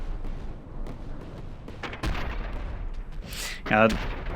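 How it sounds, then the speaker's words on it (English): In the From the Depths naval combat game, a tower's cram cannons try to fire while a laser anti-munition system shoots down the shells. Scattered sharp bangs build to a louder burst and zapping near the end. "The laser anti-munition system of the Rouse Tower is taking out the crams it's trying to fire."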